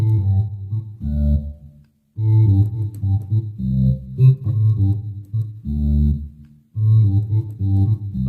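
A sampled bass instrument played through an amp with reverb gives deep, resonant tones in short repeated phrases, each sustained note separated by brief gaps, loud and alone.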